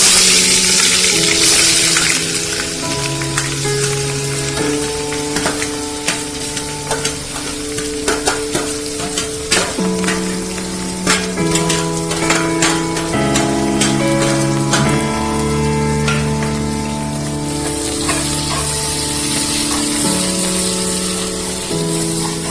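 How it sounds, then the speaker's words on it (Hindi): Onions frying in hot olive oil in a pressure cooker, a steady loud sizzle with stirring scrapes, while music plays over it throughout. "तो आप देख रहे हैं हमारा तेल गरम हो चुका है। अब हम इसमें प्याज डालते हैं।"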